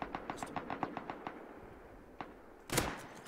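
Gunfire in the video game Rust: a rapid burst of about a dozen evenly spaced shots, then a lone report and a louder, sharper blast near the end, all fairly faint.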